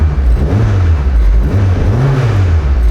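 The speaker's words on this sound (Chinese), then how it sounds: "然后听引擎声音" Up close and loud, a custom motorcycle engine is revved while it idles, its deep hum climbing in pitch and easing back down in a short swell, with no voices over it.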